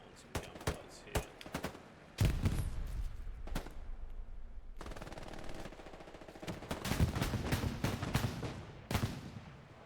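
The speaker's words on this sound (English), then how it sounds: "And just getting on some gunfights here." Battle gunfire on Hill 400 in a video game: bursts of rifle and machine-gun fire crackle in sharp volleys, some near and loud, others farther off, in a sustained firefight with a few brief pauses.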